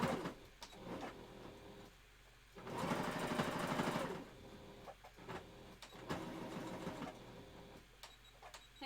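A sewing machine stitches a fursuit wolf tail in bursts, with a long run of rapid whirring needle strokes, then shorter runs separated by pauses and small clicks of handling, up close with no talk.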